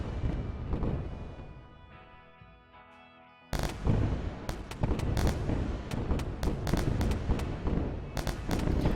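Weapon explosions in the space combat game Wayward Terran Frontier, a dense barrage of loud booms and crackling blasts after a quieter first few seconds, continuous and overlapping with no voice present.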